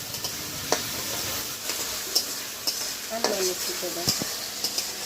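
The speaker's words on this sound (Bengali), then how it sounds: "লবণটা দিয়ে এইভাবে অনবরত নেড়ে চেড়ে তিন থেকে চার মিনিট সময় নিয়ে ভেজে নেব" A pasta mixture, salted, is stirred and fried in a pan: a continuous sizzle under repeated scraping strokes of a spoon, close and fairly loud.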